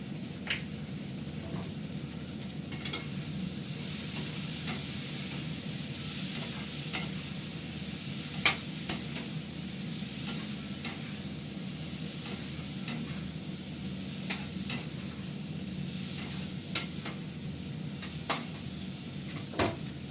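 Fish masala with ginger paste sizzles steadily in a pan while a spoon stirs and scrapes at a regular pace, its sharp clicks and taps landing every second or two over the continuous frying hiss.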